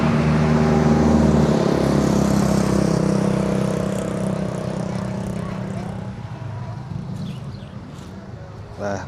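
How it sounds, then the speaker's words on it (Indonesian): Traffic at the Sebapo toll gate in Jambi during the holiday exodus, a heavy engine rumble passing close and fading over several seconds, followed by quieter road noise with faint voices. "untuk siang hari ini kepantau banyak bus yang melintas di gerbang tol Sebapo ini teman-teman"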